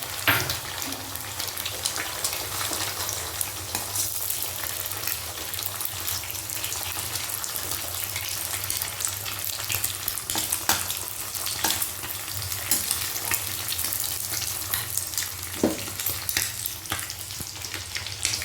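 Eggs frying with onions in a pan, a steady close sizzle with faint stirring and utensil scrapes for the whole stretch, no voices.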